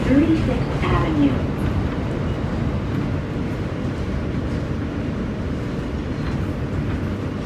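A Manhattan-bound W local subway train on an elevated line in Queens rumbles steadily, a dense low roar and rattle of rolling cars continuing throughout with faint voices beneath.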